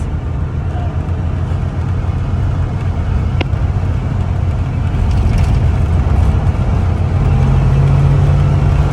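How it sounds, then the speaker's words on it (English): Heavy, steady road roar and engine drone fill the cabin of a 1981 Corvette C3 while driving, loud and continuous with a brief sharp knock as the car hits something on the road. "you can hear like all of the stuff it's hitting on the road, and you can hear the road noise"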